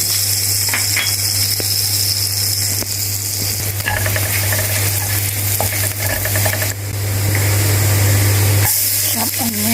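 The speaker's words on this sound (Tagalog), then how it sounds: "Ngayon ilagay na natin yung chopped garlic." Chopped garlic sizzles steadily in melted butter in a pan, a continuous frying hiss with occasional stirring scrapes and a low hum underneath throughout.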